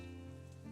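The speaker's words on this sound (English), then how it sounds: "I just idly watch the rain falling outside" Rain falling outside as a Katawa Shoujo video game sound effect, a steady dense hiss of rainfall under a low droning tone, continuous and even with no speech.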